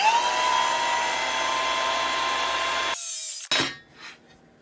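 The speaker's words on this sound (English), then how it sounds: "let's just go ahead now and do a little cut with the plunge saw" A plunge saw with a brand-new blade whines loudly at full speed while cutting wood, holding a steady high tone for about three seconds before the cut ends abruptly and the motor winds down.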